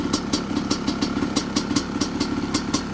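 A 1986 Honda CR500 two-stroke motorcycle engine runs close and loud, with a fast, even, rattling pulse and bright crackling exhaust bursts repeating steadily throughout.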